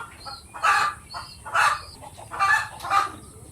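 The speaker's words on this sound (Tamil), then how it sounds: "நம்ம பண்ணையில் இருக்க சண்டை கோழிங்க இதுங்க 2 இருக்குது" Two fighting roosters on a farm in Pondicherry cluck and squawk in four loud, spaced bursts, close to the listener, with quieter chirps between them.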